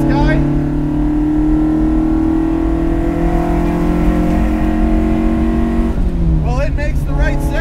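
A 1969 Lancia Fulvia Rallye 1.6 HF engine drones loud and steady as it pulls through the gears, its pitch rising with each climb before a shift dips and restarts the revs, heard from inside under occasional talk.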